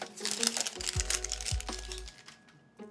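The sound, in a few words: unwrapping the vivo X300 Pro smartphone's wrapping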